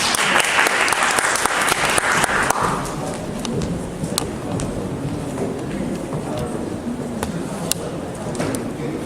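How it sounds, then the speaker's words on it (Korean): Audience applause for a speaker at a presentation contest, a loud burst of clapping that thins after a few seconds into sparser, lingering claps and scattered thuds. "큰 박수 부탁드립니다."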